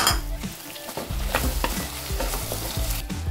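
Peeled, cut sweet potato pieces hit a hot pan for a spicy tamarind stew and sizzle loudly, while a spoon stirs through them in repeated scraping strokes with a few clinks against the pan.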